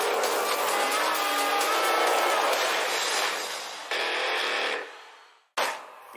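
Amateur race cars on the final lap of a rally-style track with a whoop section, engines roaring loud and steady, then fading with brief cuts near the end; a faint voice briefly underneath.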